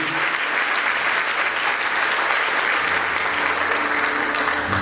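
A church congregation applauds during a service, a full, steady roar of clapping from many people that stays even throughout, with a low hum underneath and no speech.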